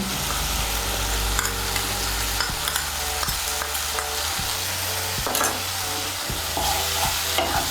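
Ground spice paste with chili powder is stirred and fried in a pan, a continuous close sizzle with repeated scraping strokes of a spoon against the pan, and no voices.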